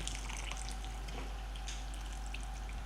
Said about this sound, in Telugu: కొంచెం వాటర్ పోస్తున్నా, వేడి నీళ్ళే.